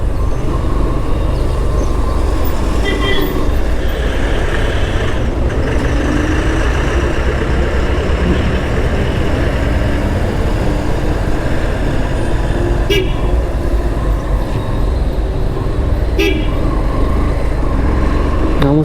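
Busy road traffic in Ooty, with vehicles rumbling past and several short horn toots sounding through the steady roar, heard from close by along the road.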